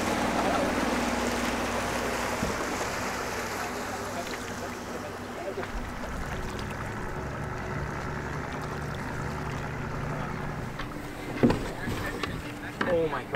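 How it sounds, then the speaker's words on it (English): A paddle boat on Lake Ontario moves through open water with soft, irregular splashing and a steady watery wash, with a few louder knocks and splashes near the end and people talking at times. "So we're just gonna paddle in here and go find some food."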